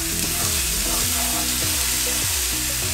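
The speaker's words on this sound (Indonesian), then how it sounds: "paling sebel tuh sebenarnya kalau menumis bumbu ini ya, pada muncrat-muncrat" Spices and sliced tomato sauté in oil with a dense, continuous sizzle and crackle, close and loud, spattering throughout with a faint low hum underneath.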